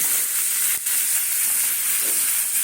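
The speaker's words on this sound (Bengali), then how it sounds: "মাছের ডিমগুলো আছে ওইগুলো ফাটছে ফটফট" Fish frying in hot oil, the roe inside bursting, for a mustard and poppy seed puti fish dish: a loud, steady hissing sizzle close by, with one sharp pop partway through.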